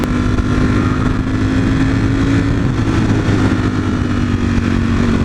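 New motorcycle engine droning steadily while riding, a loud, close, constant hum with a strong low tone and wind rush, no talk.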